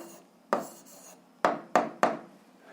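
A pen writes an answer on paper while working an algebra problem: a soft scratch followed by four sharp scribbling strokes, close and quiet, with no voices.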